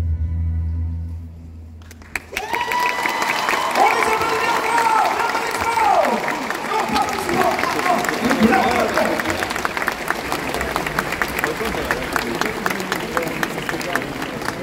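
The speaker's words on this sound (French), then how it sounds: "Et oui, vous pouvez les applaudir évidemment." Audience applause and cheering for cosplay performers on stage at Japan Expo Paris, starting abruptly after a brief lull and continuing loudly, with amplified voices and some whooping heard over the clapping.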